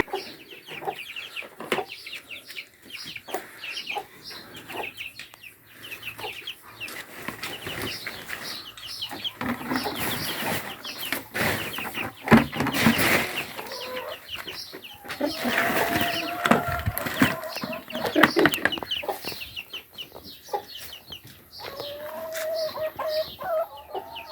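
Chickens cluck and chatter nearby in a busy farmyard, with scattered bird calls and rustling throughout.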